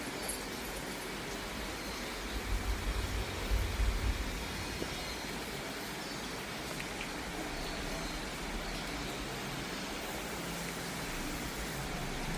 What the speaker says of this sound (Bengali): এখনো বৃষ্টি পড়ে যাচ্ছে